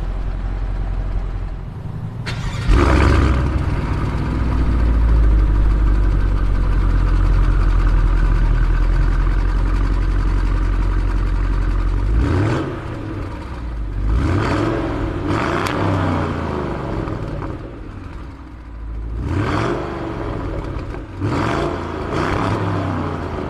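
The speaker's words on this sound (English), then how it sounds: "the quad exhaust outlets pumping out that spectacular sound" A 2020 Cadillac CT6-V Blackwing V8 growls through its quad exhaust outlets, a loud, deep, steady rumble that holds for several seconds before settling into shorter blips and revs.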